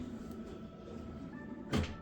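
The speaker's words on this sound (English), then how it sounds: "Yep, soft close drawers." A soft-close kitchen drawer in an updated rambler glides shut with a low rumble and ends in a muffled thump near the close, faint and alone.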